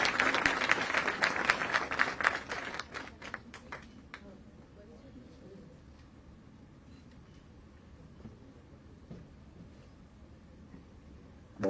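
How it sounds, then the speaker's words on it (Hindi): Audience at a government certificate ceremony in Jaipur breaks into loud applause that fades out after about four seconds, leaving quiet room tone. "तालियां जोरदार बजनी चाहिए आप सभी की।"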